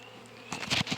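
Honeybees from a thriving hive that has just been opened, a soft buzzing hum at first that swells into a louder, denser drone about halfway through, close by.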